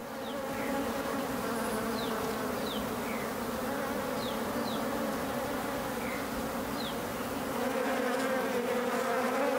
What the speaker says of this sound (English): The honeybees were making most of the noise